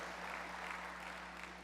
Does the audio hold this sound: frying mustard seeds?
no